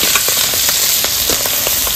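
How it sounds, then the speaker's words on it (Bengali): Small puti fish fry in hot oil with a loud, dense, continuous sizzle, close up, with faint crackles and occasional pops and no voices. "আগে পুঁটি মাছগুলো ভেজে নেবো, তারপরে ওই মাছগুলো ভাজবো"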